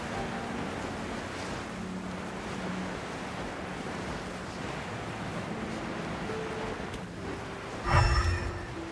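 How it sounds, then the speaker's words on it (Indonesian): Ocean surf on a beach in Genshin Impact, a soft continuous wash of waves and wind at low level, with a brief louder swell near the end. "Di pantai."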